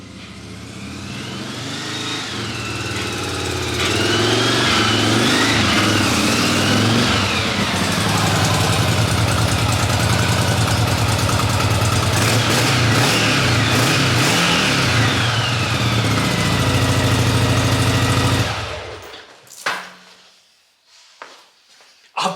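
A 1981 Yamaha XV750 Virago motorbike engine runs steadily, rising slightly in revs and holding a loud, close rumble before cutting off abruptly near the end.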